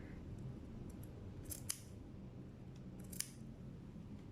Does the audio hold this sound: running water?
no